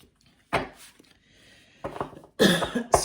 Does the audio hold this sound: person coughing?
yes